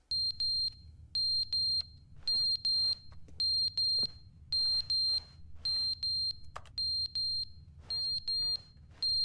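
Repeated electronic beeps in quick pairs and triplets from the video game The Stanley Parable: Ultra Deluxe, a bright piercing tone pulsing steadily over a low background hum.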